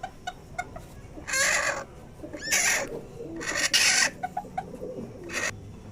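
Brooding hens cluck loudly and close by in several separate bursts, with short quiet gaps between the calls and faint background noise throughout.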